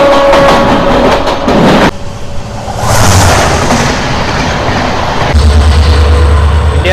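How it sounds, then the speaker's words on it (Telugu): The Vivek Express, India's longest train, passes near Kamakhya Junction in hill country, a loud close rumble with rhythmic wheel clatter, a whooshing shift midway and heavy low tones as the wagons roll by. "India's largest train Vivek express train అయితే వెళ్తుంది"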